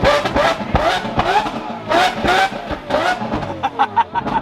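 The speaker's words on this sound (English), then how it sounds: "Can I rev it? Is that loud?" A car engine revving hard, loud and close, in repeated surges that rise and fall with a rough throaty roar, under excited voices talking.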